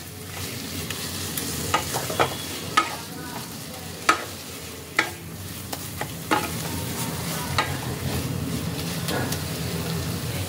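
Radish and shrimp curry sizzling in a pan while it is stirred, with sharp clacks of the spoon against the pan at an irregular pace over a steady fry, close up and with no talk.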